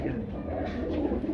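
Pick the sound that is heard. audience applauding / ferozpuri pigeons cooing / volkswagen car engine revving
ferozpuri pigeons cooing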